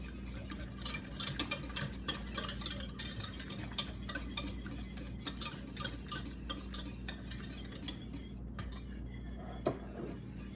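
A whisk taps and scrapes steadily against a pot or bowl as pepper is mixed into a cheese sauce for scalloped potatoes, a rapid rhythm of light clicks heard up close and without talk.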